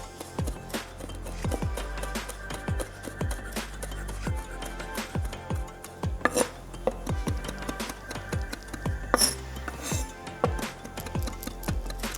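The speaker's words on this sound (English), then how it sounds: "let's chop it up" Fresh rosemary chopped with a knife on a cutting board for a fig and honey cheese ball, a steady run of sharp close taps and thuds spread across the whole stretch with no talking.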